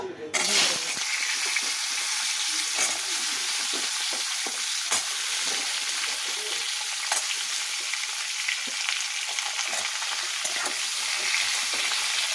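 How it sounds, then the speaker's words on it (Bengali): Vegetables hitting hot oil tempered with cumin in a wok with a loud hiss, then a continuous crackling sizzle, with occasional spatula clicks against the pan. "কড়াতে তেল ছিল তেলের মধ্যে একটু জিরে ফোড়ন দিয়েছি এবার সবজিগুলো"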